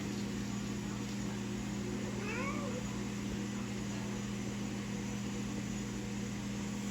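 A single short meow rises faintly over a loud, constant mechanical hum and hiss.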